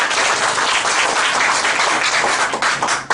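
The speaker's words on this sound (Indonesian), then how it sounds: "Berikan aplaus buat kita semua." An Indonesian seminar audience gives a dense burst of clapping, many hands together, loud and steady for a few seconds before starting to fade.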